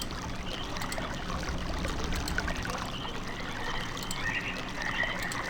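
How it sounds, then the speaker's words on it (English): Running water in the Myst video game, Channelwood age: a steady, continuous pouring and trickling wash with faint bright splashes, no voices. "Now it definitely sounds like running water."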